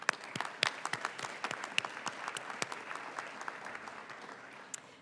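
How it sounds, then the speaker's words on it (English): An audience at a pharmacy school white coat ceremony applauds, a scattered patter of many individual claps at moderate distance, fairly soft and steady, without talking. "So I think they deserve a round of applause as well."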